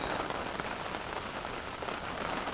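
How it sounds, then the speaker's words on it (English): Heavy rain pours down steadily at a carp fishing lake in France, a dense continuous hiss of drops hammering on surfaces, loud and close with no break. "Oh my god, look at the rain coming in now."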